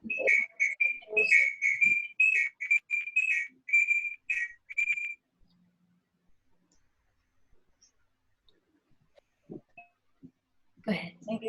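A clear, high whistled tune for several seconds during a church service, then quiet, with faint sounds and a brief voice near the end.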